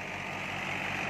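New Holland 480 tractor with a thresher machine, engine running at a steady idle, a continuous rumbling drone with a buzzing upper whine, close and unbroken, no voices.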